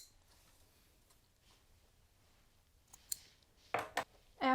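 Scissors snipping sewing threads after a back tack on a shirt button band, a few crisp close snips near the end following a quiet stretch with faint ticks.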